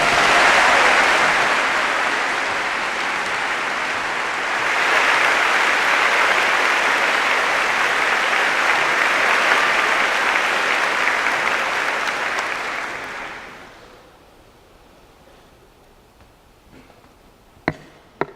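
Convocation audience giving sustained applause, a loud, dense clapping crowd that swells again midway and then dies away, leaving near quiet with a couple of sharp knocks at the end.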